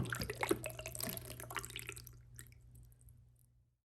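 Fresh water trickles and drips into the blue clean-water tank of an O-Cedar Rinse Clean spin mop bucket, a close, splashy flow that tapers off and fades to silence after a few seconds.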